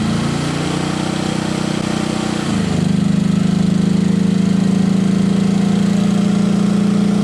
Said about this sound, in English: the small displacement engine gets louder under heavy loads